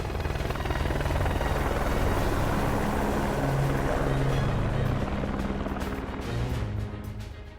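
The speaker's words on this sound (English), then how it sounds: "As he boarded the helicopter" A helicopter in the video game Ace Combat 5: rotor thump and engine drone fill the scene, loud and steady throughout, easing off slightly near the end.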